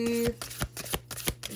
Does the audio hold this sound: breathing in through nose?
no